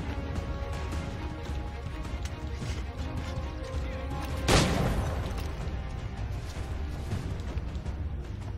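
A single gunshot from the PC game Assassin's Creed III cracks out once midway through, sharp and fairly close, over a constant noisy game background.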